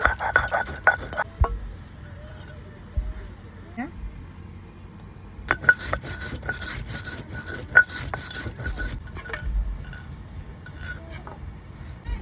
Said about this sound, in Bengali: জিরে আদা একসঙ্গে বেটে নেব।